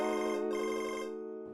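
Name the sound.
mobile phone ringing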